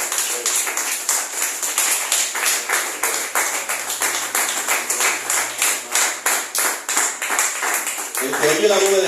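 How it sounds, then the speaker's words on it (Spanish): A church congregation claps in a steady, rhythmic beat, about two claps per second, loud and close, with a voice speaking briefly at the very end. "Dar un aplauso al Señor con vida."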